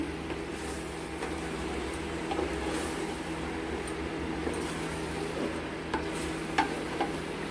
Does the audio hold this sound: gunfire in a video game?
no